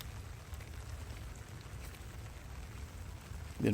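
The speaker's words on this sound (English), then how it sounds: "the rain has crept back up on us" Steady rain falls across an outdoor disc golf course during a collegiate open tournament, a soft, even broadband patter with a low rumble underneath, continuous and moderately close, with a brief louder bump right at the end.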